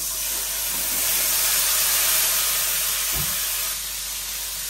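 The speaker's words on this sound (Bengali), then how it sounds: "মশলাটা দিয়ে দিই, তেলের মধ্যে দিয়ে দিলাম" Spices including cumin, coriander, turmeric and green chili, along with tomato, dropped into hot oil for a Bengali small-fish curry, producing a loud, steady, close hissing sizzle that stays broad and even throughout, with no talking.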